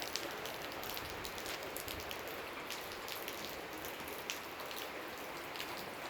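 Steady overnight rain patters on the ground and grass outdoors, a constant, even hiss of drops with no voices.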